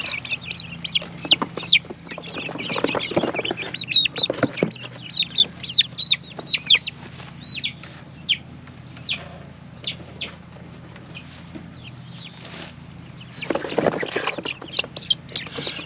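A group of 28 young Isa Brown and buff barred rock chicks, moved from a brooder into a small carrier, peep and cluck in dense, overlapping bursts close by, with shuffling and handling noises between calls.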